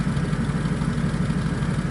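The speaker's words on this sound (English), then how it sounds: "my pickup truck has been running exhaust out of the exhaust on the truck into this tank" A pickup truck engine idles steadily with its exhaust piped into a metal tank, giving a close, even, low throbbing drone with a slight clatter.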